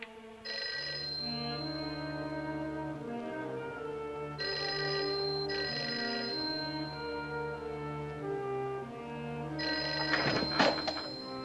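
A telephone bell rings in repeated bursts, three rings spaced a few seconds apart, over a steady low musical background, the last ring with a clatter, in the 1956 film Outside the Law.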